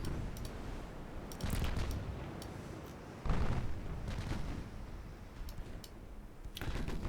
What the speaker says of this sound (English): Highly accurate gunfire.